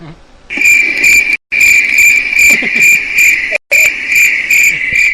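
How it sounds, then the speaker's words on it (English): Cricket chirping sound effect played on a radio show, a loud, steady pulsing trill in close repeated bursts, broken twice by brief silent cuts, with faint background noise underneath. "one of my favorites on here is the old crickets"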